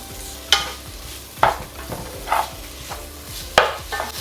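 Onions for prawn biryani sauté in a pan, a spoon scraping and stirring in four or five distinct strokes over a soft, steady sizzle, close and fairly loud, with no voices.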